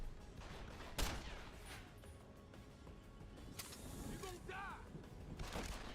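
Gunfire in the video game Deus Ex: Human Revolution: a few sharp shots and bursts pop over a faint background of game ambience and mechanical clicks, fairly quiet overall.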